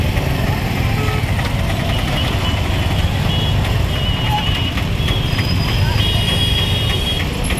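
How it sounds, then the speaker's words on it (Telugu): Traffic jammed on a road during a Maha Shivaratri festival gathering, a dense continuous din of engines with repeated horn and beeping tones over it, and people talking throughout. "ఒక కిలోమీటర్ మేర ట్రాఫిక్ జామ్ అవుతా ఉంది"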